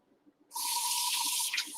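Tap water pours steadily at close range to wet a medium-grade oil whetstone before sharpening a kitchen knife, a broad constant hiss that starts abruptly and runs unbroken with no talk.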